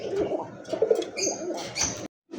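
A pair of Lahori pigeons coo softly and close by in low, throaty rolling calls, with a few higher chirps mixed in and a brief pause near the end.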